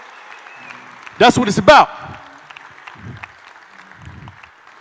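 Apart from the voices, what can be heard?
audience applauding and cheering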